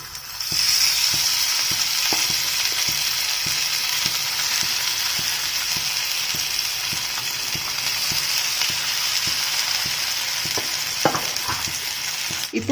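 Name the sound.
fish pieces frying in hot oil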